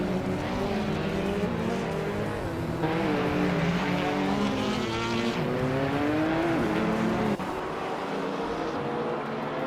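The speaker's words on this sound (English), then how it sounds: "Itzaroro is flying past cars, left and right to take the lead." Race cars speed past one another in a racing video game, engines droning loudly and continuously with rising and falling revs, overlapping as cars pass, with brief tire squeals.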